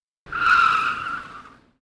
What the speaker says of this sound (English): I slammed on the brakes.